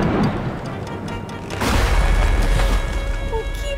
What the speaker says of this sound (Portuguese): O vento derrubou a árvore durante a tempestade